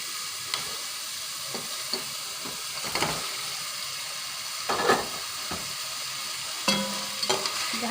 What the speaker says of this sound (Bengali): এখন আমি ভাজা পটলগুলো দিয়ে দেবো এর মধ্যে।